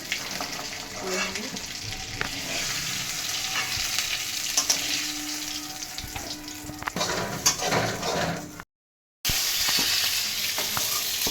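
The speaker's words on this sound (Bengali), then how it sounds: "একটু ভাজতে হবে" Stuffed pointed gourd (potol dolma) frying in a pan makes a steady, close, loud sizzle with occasional stirring clatter, briefly cutting out near the end before resuming.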